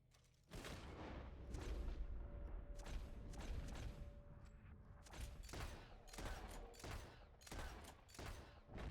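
Rapid gunfire in Red Dead Redemption 2 on PC, a dense volley of loud booming shots followed by irregular separate cracks, no talking.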